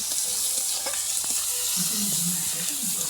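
Spices sizzling in hot oil for mocha ghonto, a Bengali banana flower curry, giving a steady close frying hiss with light stirring scrapes and faint low voices in the background.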